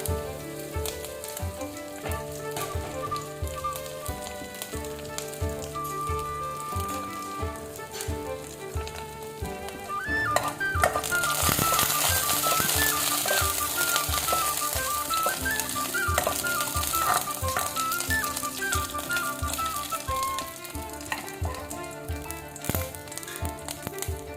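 Mustard seeds, garlic and curry leaves sizzle in hot oil for a clam curry, a steady crackling fry that swells louder midway as more ingredients go in, with pans and utensils clinking underneath and no talking.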